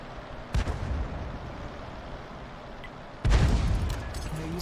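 Two heavy artillery shots from a GW Panther self-propelled gun in a tank video game, each a loud boom with a long rumbling tail, the second arriving about three seconds after the first.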